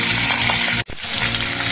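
Egg-coated pointed gourd browns in a hot pan, a loud dense sizzle close by that drops out for a split second midway, then resumes, with no talking.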